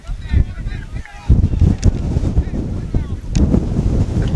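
Strong wind gusts strong enough to lift soil from the pitch buffet the microphone at an outdoor football match in heavy, uneven rumbling bursts that rise and fall, loud and close, with a short lull partway through.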